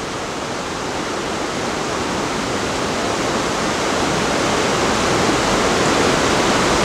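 Stream rushing through a narrow rocky gorge near Lincoln, New Hampshire, a loud, close, unbroken roar of churning water that swells slightly toward the end, with no voices.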